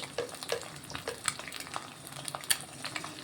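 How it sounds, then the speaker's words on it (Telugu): An egg frying with ginger-garlic paste in a pan for egg noodles, a soft steady sizzle under repeated close scraping and stirring taps from a utensil. "ఎగ్ కొంచెం ఫ్రై అవ్వాలి"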